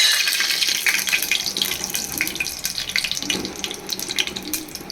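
Whole spices — cinnamon, cardamom, cloves, stone flower and a bay leaf — sizzling steadily in hot oil while tempering for a prawn biryani, a continuous close hiss with crackling bursts and no talking.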